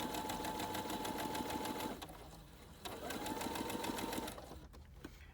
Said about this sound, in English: So I'm just gonna sew all the way down.